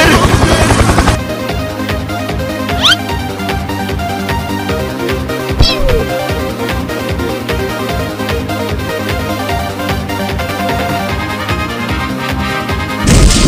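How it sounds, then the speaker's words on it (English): A helicopter in a stickman video game gives a fast, rhythmic chopping drone that runs steadily throughout, with sharp impact and crash hits scattered on top and a voice heard at times. "Helicopter! Helicopter!"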